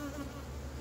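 Honeybees droning steadily at an open hive with its frames exposed, a dense continuous buzz, fairly quiet and close, with no voices.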